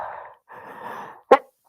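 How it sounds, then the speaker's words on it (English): A single sharp sneeze bursts out near the end, loud and close, after stretches of quiet breathy vocal sounds from the same person. "Okay, y'all, I got to sneeze."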